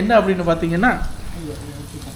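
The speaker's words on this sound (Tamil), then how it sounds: "அது பொரியிற சத்தம் பார்த்தோடனே காலையில் எனக்கு பசி வந்துருக்கு" Food sizzles and crackles in hot oil, heard beneath someone speaking briefly, then continuing on its own.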